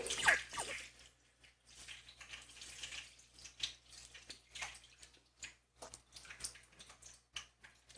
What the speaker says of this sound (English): So I'm just going to pour this now into my cheesecloth just to strain it out.